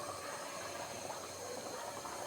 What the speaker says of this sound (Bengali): এই যে তরকারি বলক এসে বসছে